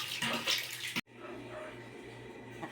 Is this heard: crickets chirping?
no